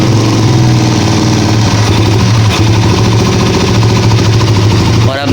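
A Honda CG125 motorcycle engine idles steadily and loudly up close after a cam gear noise repair, a constant low throbbing with a brief blip near the end.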